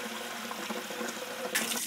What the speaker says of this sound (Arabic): مي من الحنفية بس ميرسي.